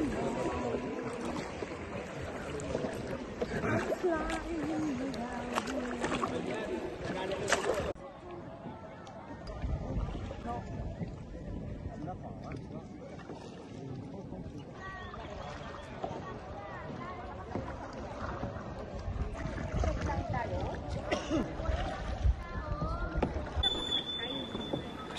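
Paddle strokes and water sloshing sound steadily from a kayak gliding across the calm water of Big Lagoon in El Nido, with people talking throughout.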